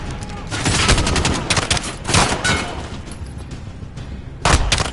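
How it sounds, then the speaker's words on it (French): Sustained machine gun fire in Call of Duty Modern Warfare, rapid bursts of dense crackling shots that swell and fade in waves, with heavier booming volleys near the start and end. "on doit neutraliser la mitrailleuse"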